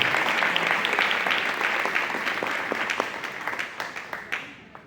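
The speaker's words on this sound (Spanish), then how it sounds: "Dale un aplauso al Señor." A church congregation at a family retreat applauds the Lord, a dense wash of many hands clapping at close range that thins toward the end with a few louder individual claps.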